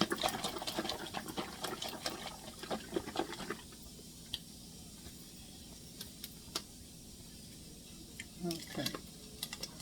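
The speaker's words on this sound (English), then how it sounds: "Let me stir it up." A spoon stirs heavy whipping cream into she-crab soup in a pot, giving soft liquid swishing and scraping up close, busier at first and then quieter with faint clinks.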